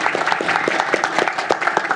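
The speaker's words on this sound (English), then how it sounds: "Quick round of applause for Swyx." An audience at an AI engineering talk gives a short round of applause, dense overlapping claps at moderate loudness throughout.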